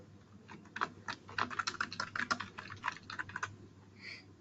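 Quick, uneven keystrokes on a computer keyboard tapped out a short word-entry stretch, close and fairly clear over a low steady hum, ending with a brief softer click.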